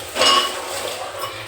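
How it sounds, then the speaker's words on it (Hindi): Two metal kitchen utensils clank together in a kitchen sink while a jar is washed, producing a single sharp, ringing clink up close that fades quickly. "दो बर्तन भिड़ा दिए हमने"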